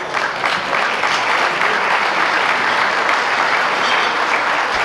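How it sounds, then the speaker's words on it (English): Sustained audience applause fills a veterans dinner social hall in North Reading, steady and dense throughout with no pauses, many hands clapping at once at close range. "I'd like to give them a round of applause."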